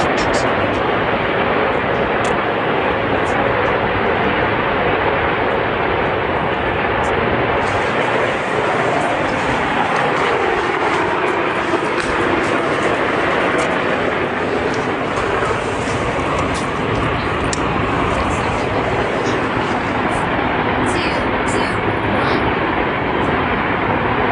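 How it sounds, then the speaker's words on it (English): Distant fighter jet passing overhead, hidden above overcast cloud, heard outdoors in Oklahoma as a steady broadband roar that swells and fades slowly over about twenty seconds, with no one speaking. "it kind of sounds like it could be a fighter jet that you just can't see because of the overcast cloud conditions"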